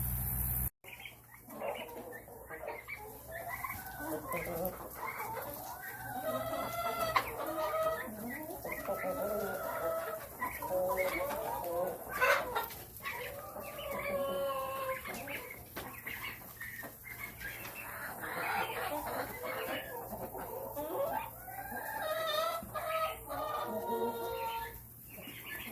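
Chickens cluck and murmur inside a farm coop at feeding and chore time, a steady busy chorus of hens close by, with someone talking over the birds throughout.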